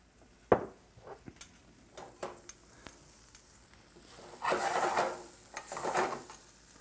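Chopped onions sauté in olive oil in a skillet for a cherry whiskey sauce, a soft sizzle with sharp clicks and taps of a utensil against the pan, swelling into two louder bursts of frying near the end.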